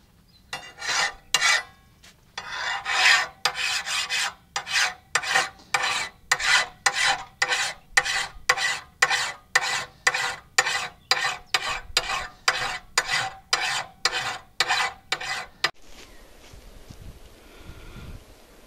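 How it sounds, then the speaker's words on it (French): A hand file sharpens a riding mower's cutting blades in about twenty close, steady rasping strokes in an even back-and-forth rhythm, then stops and leaves faint background rustling. "je vais aiguiser mes lames. Un petit coup de lime suffit."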